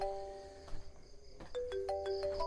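Phone ringtone of an incoming call: a bright electronic melody of sustained tones shifting in pitch, clear and close, with a few soft background knocks.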